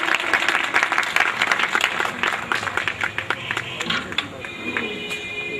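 A crowd at an Indian social-service award ceremony (samman samaroh) gives sustained, dense applause of many hands clapping close by. The applause thins slightly toward the end.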